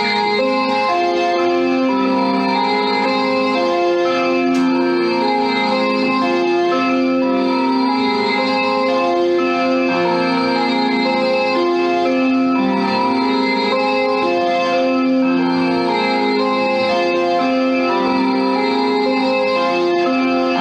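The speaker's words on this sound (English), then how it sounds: "they brought out the DX7 keyboard" Bright FM synthesizer music from a Yamaha DX7 keyboard in a 1980s synth-pop style, with layered sustained chords and a steady melodic line, played alone with no talking.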